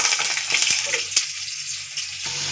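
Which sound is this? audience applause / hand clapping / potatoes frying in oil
potatoes frying in oil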